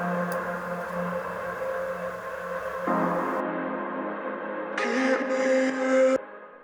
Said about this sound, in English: Just some samples with a lot of reverb on it.